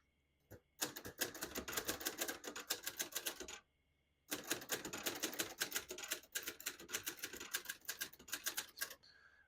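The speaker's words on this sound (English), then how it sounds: "Every time I type on this, it's almost euphoric." A 1968 Hermes 3000 portable typewriter being typed on, with fast, crisp key strikes in two dense bursts separated by a short pause and a faint carriage sound, close up and without voices.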